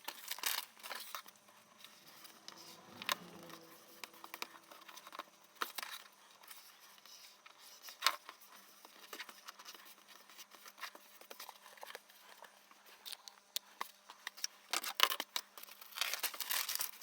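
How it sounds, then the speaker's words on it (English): Paper being pressed down with a fingernail or bone folder while a Coptic-style journal is bound by hand: faint, scattered crinkles and soft papery taps, close and quiet, with no talking. "use your fingernail or the bone folder to push down that little piece of paper"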